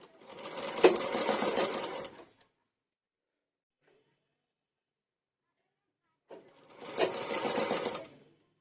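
Sewing machine stitching binding onto a blouse in two quick bursts of rapid whirring, each about two seconds long, separated by a silent pause.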